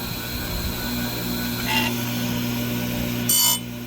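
A steady tool drone from an Oregon bench grinder sharpening a chainsaw chain, running continuously with two short brighter bursts as the wheel bites into a cutter tooth.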